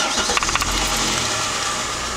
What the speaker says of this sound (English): So we'll just start the car and we'll see what happens.